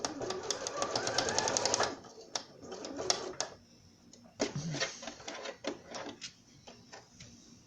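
Domestic sewing machine stitching a third seam in fabric, a dense rapid mechanical whirr for about two seconds, then shorter stop-start bursts and clicks, close by.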